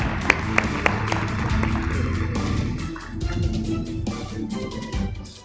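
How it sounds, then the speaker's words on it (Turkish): Audience applause at a development congress as a speaker is welcomed to the stage, with a few sharp claps at first, then a steady, muffled wash of clapping across the hall. "alkışlarla sahneye davet ederiz"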